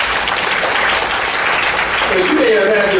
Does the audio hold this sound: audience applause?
yes